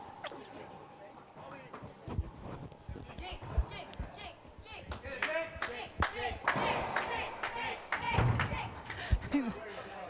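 Crowd at a racquetball match clapping and cheering in scattered bursts at match point, with sharp claps and shouts over a busy, echoing court and a commentator talking throughout.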